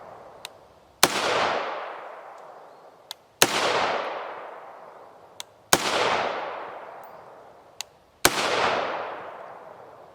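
A rifle fires 5.56x45mm 77gr OTM Sellier and Bellot rounds, four sharp loud cracks spaced roughly two seconds apart. Each shot rings out with a decaying tail, and faint smaller clicks fall between the shots.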